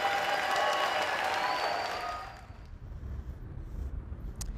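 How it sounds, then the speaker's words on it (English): Families in the audience at a Cristo Rey high school graduation applaud and cheer, a broad wash of clapping with a few whistles that fades out after about two seconds, leaving quiet room noise. "Proud families in the audience cheer on tomorrow's leaders."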